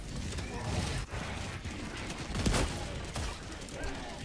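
Rapid video-game gunfire rattles in dense bursts, close and steady with sharper shots standing out, continuing throughout under a busy mix of game sounds.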